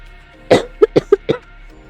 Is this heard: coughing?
yes